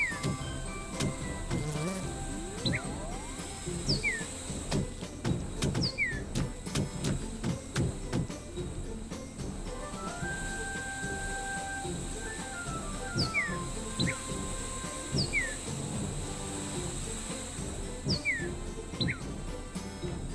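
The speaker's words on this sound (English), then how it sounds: "Nice pleasant bird sounds as they get devoured." Chirping birdsong from the video game Tasty Planet Forever, short high tweets recurring every few seconds over busy game music and effects, fairly quiet throughout.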